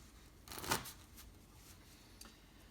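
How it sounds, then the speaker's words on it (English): A deck of playing cards being shuffled during a card trick, a short riffling burst of papery flutter near the mic, loudest in the middle, then fading to quiet room tone with one faint tick. "Pass the cards around, let the cards be shuffled."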